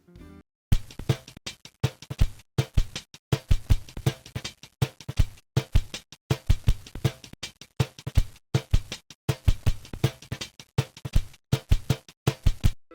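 A drum break loop roughened by a digital degrading plugin, its punchy kicks and snares repeating in a steady lo-fi groove with crunchy, bit-crushed texture, loud and alone throughout.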